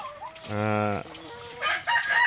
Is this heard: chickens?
yes